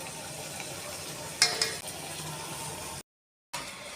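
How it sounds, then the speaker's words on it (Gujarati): Kachori fry slowly in hot oil on a low flame with a soft, even sizzle. A couple of brief utensil clinks break in partway through, and the sound drops out in a short silence before the sizzle resumes. "કચોરીને સારી રીતના તળી લઈશું."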